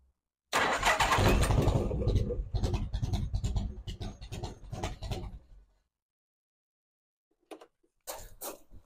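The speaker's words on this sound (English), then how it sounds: "let's see if that starter motor will do its job and turn over" A Harley-Davidson motorcycle, unstarted since the previous August, cranks on its starter motor and fires up in a loud, close, rumbling burst that settles into uneven revving before cutting off, followed by a few brief knocks.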